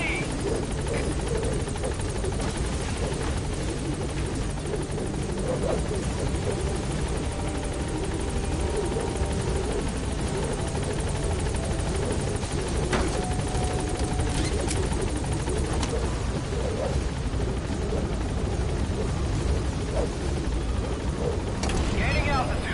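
Pequod, the support helicopter in Metal Gear Solid V, thrums with a steady, loud rotor drone throughout, joined by scattered sharp bursts like distant gunfire and brief radio-style voice lines.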